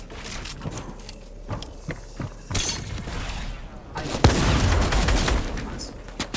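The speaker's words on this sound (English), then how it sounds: "Shockwave on that kid, shockwave up." Shockwave grenade blasts in Fortnite box fighting, sharp bursts and shattering crashes over busy game noise, with a loud impact near the middle followed by sustained rumbling.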